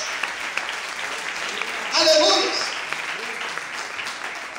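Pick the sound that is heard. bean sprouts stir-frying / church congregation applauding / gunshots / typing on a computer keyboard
church congregation applauding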